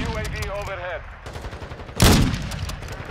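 Gunfire in a first-person shooter on a new District map, a shooter firing through a wall: a dense, loud burst of shots erupts midway, with a voice talking and game noise running underneath before and after.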